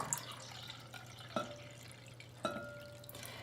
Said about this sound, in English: top it up to the 1 cup mark with water